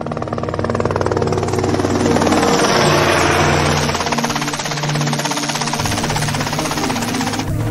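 Helicopter in the video game GTA Vice City, a steady loud rotor and turbine drone with rapid chopping texture holding constant throughout, close and continuous with no talk over it.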